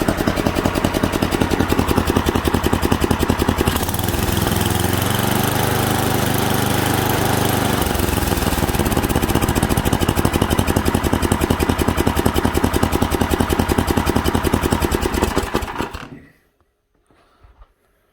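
A snowblower engine that has just had its carburetor cleaned runs steadily and loudly for about sixteen seconds with a rough, throbbing beat, shifting slightly in tone midway, then shuts off and goes quiet.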